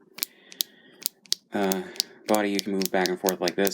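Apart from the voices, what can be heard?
clicking of a Power Rangers action figure's body joint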